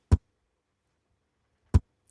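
A kick drum processed with EQ in FL Studio, cut below about 30 hertz, hits twice, about 1.6 seconds apart. Each hit is a short, punchy thump with a brief tail, alone in silence.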